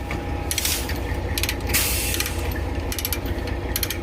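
Ratchet strap tightened on a flatbed truck load, with several quick bursts of metallic clicking separated by short pauses, close and clear over a low steady background hum.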